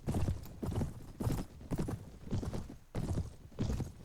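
Horse hooves clip-clop in the Mount & Blade Warband video game, with rapid repeated hoofbeats at a steady gallop-like rhythm, fairly close and continuous with no talking.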